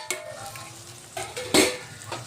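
Spices stirred into broccoli frying in oil, a soft steady sizzle broken by a few scraping spoon strokes against the pan, the last one louder and fuller.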